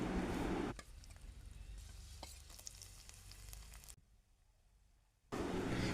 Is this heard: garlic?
yes